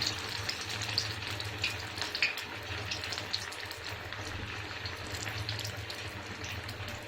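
Poha vada deep-frying in hot oil gives a steady, even, hissing sizzle with faint bubbling crackles throughout. There is no talk.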